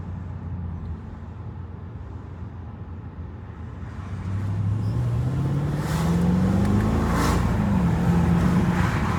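A Mercedes E55 accelerates on the road, its engine note rising steadily in pitch and growing louder after a few seconds of steady cruising, with a constant close rumble underneath.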